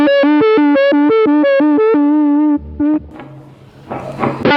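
Electric guitar through a DigiTech Whammy pedal on its impossible setting, a held note warbling in rapid rhythmic pitch jumps, then a brief dip and a noisy distorted strum at the end.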